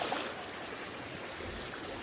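Creek water flows steadily and faintly, a soft, continuous rush heard alone without any talking.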